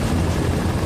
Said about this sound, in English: The helicopter's getting into position.